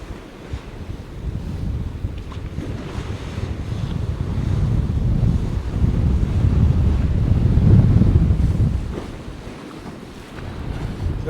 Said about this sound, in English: Certainly got some movement in the sea.